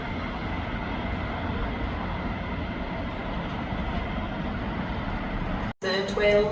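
ScotRail train pulling into Edinburgh Gateway station, a steady low rumble of wheels and motors that continues evenly, then cuts briefly before a faint hum returns.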